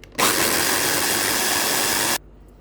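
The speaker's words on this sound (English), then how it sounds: "Let's blend all together." A blender whirs through boiled potatoes, seasoning and potato cooking water, a loud, even high-speed buzz that starts abruptly, holds steady for about two seconds, then cuts off sharply, with no voices.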